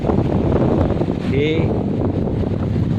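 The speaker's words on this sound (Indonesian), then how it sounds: "angin cukup kencang sehingga air pasang jadi tidak bisa" Strong wind roars and buffets the microphone on an island pier at Pulau Mengkudu, a constant loud rumble, while a person speaks briefly over it.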